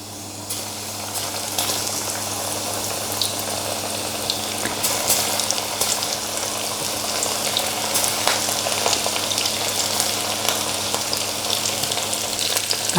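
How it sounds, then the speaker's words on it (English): Chicken pieces for karaage fry in hot oil with a dense, steady sizzle and bubbling up close. The crackle stays fairly constant throughout with no voices. "I'll just wait till the oil is sizzling when I test a piece of chicken."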